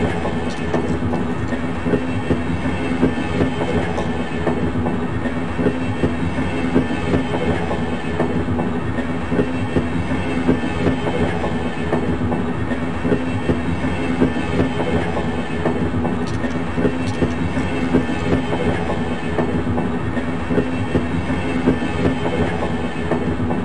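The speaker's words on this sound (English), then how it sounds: "This automated train is provided for the security and convenience of the Black Mesa" Steady rumble and rhythmic clatter of the automated rail train riding its track in the Half-Life mod Heart of Evil, a continuous loud ride with no talk.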